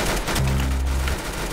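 Loud, close bursts of rapid gunfire in a first-person shooter video game, crackling shots layered over a low steady tone that sounds for about a second.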